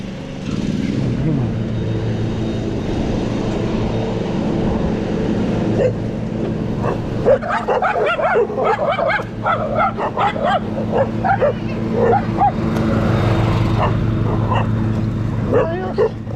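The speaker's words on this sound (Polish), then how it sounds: "A no, pieski?" Dogs bark and yip in excited bursts along a road during a long-distance ride, close and fairly loud over a steady engine-like drone, with a few whimpers mixed in and a voice speaking briefly.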